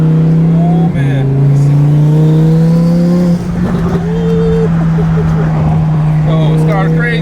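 Twin-turbo 1000 hp Lamborghini accelerating hard from the driver's seat, a loud steady engine drone with rising revs throughout, while an excited voice talks over it.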